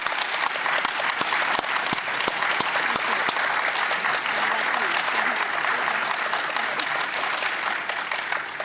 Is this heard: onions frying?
no